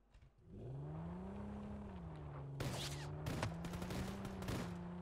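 Vehicle driving in Ring of Elysium, a steady engine drone that holds near and loud, with sharp bursts of gunfire breaking in over the second half.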